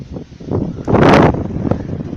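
Strong wind gusting outdoors through trees, a loud broadband rush that swells to a peak midway and then eases into lighter buffeting, with no voices.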